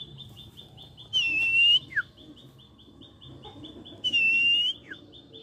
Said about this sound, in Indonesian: Ini burungnya masih asli sekali teman-teman